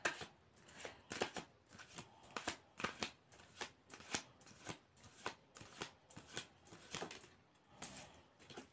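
Tarot cards being shuffled in a steady run of crisp riffling bursts, about fifteen quick flutters repeating close and clear with no talking.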